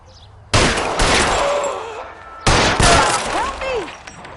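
Gunfire in the L.A. Noire video game: two loud bursts of shots with crashing, breaking debris and ringing tails, the first starting about half a second in and the second about two seconds later, with voices mixed among them.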